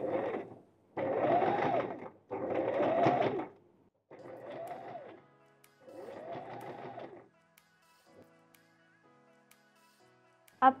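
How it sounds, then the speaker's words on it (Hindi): A sewing machine topstitches around the sides of a homemade corset top in several separate runs, each a few seconds long, with short pauses between them. The later passes are quieter, and a soft click closes the sequence. "एंड अगेन अब सारे साइड्स पे एक और टॉप स्टिच कर"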